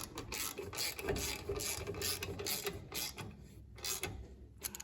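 A ratchet clicks in rapid, fairly quiet bursts while snugging up bolts on a Smart Fortwo 451 axle, close by with no voices.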